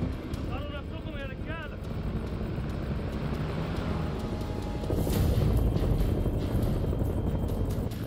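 Military helicopters fly overhead in the House of Ashes video game, a steady rotor and engine drone that grows louder toward the end, with people talking over it.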